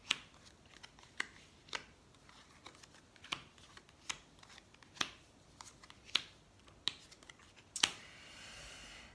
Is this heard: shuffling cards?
yes